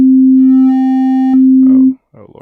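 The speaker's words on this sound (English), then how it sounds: "so I wanted a sine wave" A steady synthesized sine wave tone from Bitwig software holds loud and pure for about two seconds, then cuts off sharply, followed by brief soft rustling noises.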